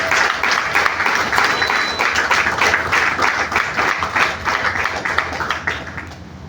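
A room of insurance agents at a training session gives loud, steady applause, a thick wash of many hands clapping that holds for several seconds before tapering off slightly at the end.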